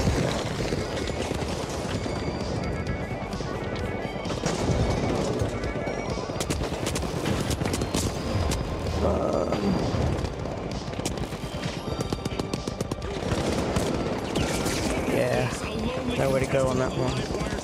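Rapid automatic gunfire in The Finals rattles in quick, repeated bursts nearly throughout. Frequent game sound effects and a speaking voice run alongside the shooting.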